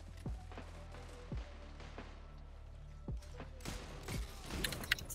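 Hand cannon fire in the video game Destiny 2 comes as several sharp, separate shots at irregular intervals over a quiet background. A denser burst of impacts follows near the end.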